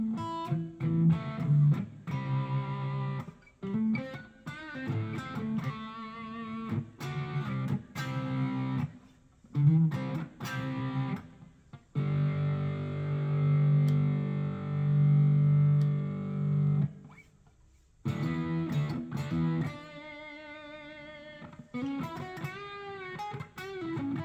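A Volgoa headless electric guitar played through a Boss GT1 effects unit with light reverb, giving distorted sustained chords and note runs in uneven phrases with brief pauses, loud and close with no talk.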